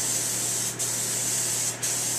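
Spray gun laying down John Deere Blitz Black paint in light, quick passes, a steady close hiss broken by two short pauses between strokes, no talking.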